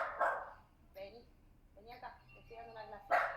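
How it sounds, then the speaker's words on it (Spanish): A dog gives two loud, close barks, one at the start and one at the end, in a room where a neonatal physiotherapy class is going on, while someone speaks between them. "Perdón los ladridos."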